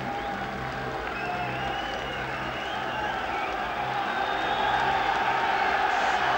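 A boxing arena crowd keeps up a steady roar of applause and cheering, a dense, continuous wash of noise that swells slightly toward the end.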